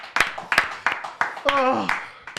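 A few sharp, separate handclaps spaced unevenly, close and loud, with a voice speaking in between them.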